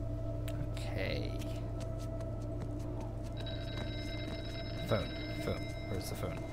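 A telephone rings within the video game Here They Lie, a faint repeating electronic ring under a steady low hum, with a second ringing tone joining partway through.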